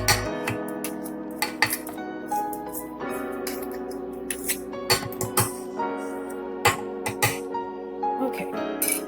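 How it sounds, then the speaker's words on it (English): A spoon scrapes and taps brownie batter into a mixing bowl with repeated clinks and knocks over a steady background hum. "So I'm just going to get this mixture off this spoon."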